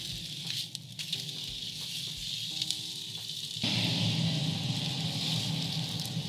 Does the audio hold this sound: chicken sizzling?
yes